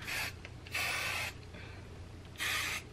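Three short hissing bursts of an aerosol hairspray can, close by, separated by brief quiet pauses.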